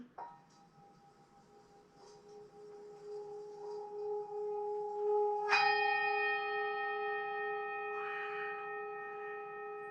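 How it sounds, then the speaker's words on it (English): A singing bowl is struck once, ringing with a sustained, shimmering metallic tone that lingers and slowly fades, following a softer earlier ring. "Get ready for the sound of the singing bowl."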